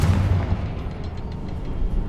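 A Confringo blasting spell explodes in Hogwarts Legacy with a deep booming burst at the start, followed by a rumbling, crackling tail that lingers for about two seconds.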